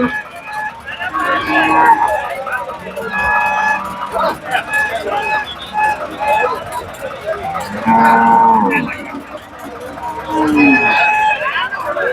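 Native cattle moo repeatedly in long, loud lowing calls at the Kundadam cattle market, with people talking and faint traffic noise in the background.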